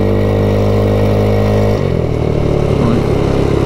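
A 2021 MADDOG Generation V 150cc scooter in matte black rides along a main road, its engine droning steadily and loudly; partway through the tone drops and the sound roughens into wind-buffeted road noise.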